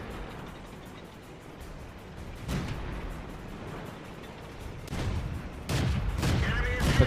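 Tank gunfire and explosions from a World of Tanks battle, several sharp bursts landing at intervals over a low rumbling background, louder toward the end.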